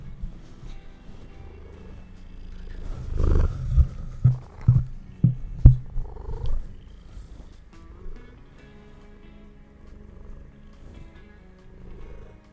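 A house cat purrs near the microphone in a low, soft rumble, with a cluster of louder bumps and thumps in the middle as it rubs against the mic.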